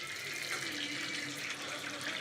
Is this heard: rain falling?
no